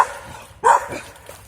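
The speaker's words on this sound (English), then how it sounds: "That's a strong bark." A dog on a rural property gives a single loud, close bark, preceded by a fainter yelp, with quiet outdoor background around it.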